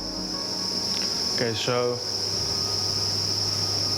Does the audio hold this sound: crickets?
yes